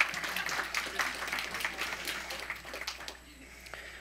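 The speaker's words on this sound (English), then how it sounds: "Give them a hand clap just for their..." Faint, scattered hand clapping from a men's conference audience, a thin patter that fades toward the end with a little background voice.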